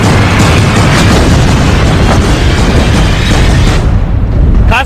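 A missile blown apart mid-air by a missile defense system gives a loud, sustained roaring blast that fills the whole stretch and fades only slightly near the end.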